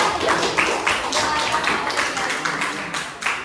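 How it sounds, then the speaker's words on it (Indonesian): A classroom group gives scattered, fairly faint applause for another group of students during a school presentation, uneven claps repeating for a few seconds without a strong swell. "bentuk sekali tepuk tangan untuk kelompok yang sebelah sini"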